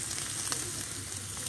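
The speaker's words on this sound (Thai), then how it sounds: "มาได้จ้ากินหมูกระทะกันค่ะ" Pork sizzles on a Thai moo kata grill, a steady, close, crackling fry that holds evenly throughout with no talking.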